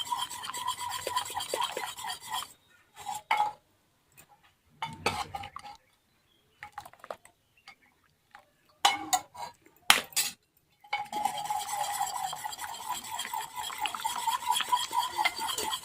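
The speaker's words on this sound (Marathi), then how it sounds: "दोन ते 3 मिनिटं छान असं घोटून घ्यायचंय." Cooked plain dal (varan) being mashed and whisked in a metal pot, rhythmic scraping and rubbing bursts with pauses of near silence in between, close and fairly faint.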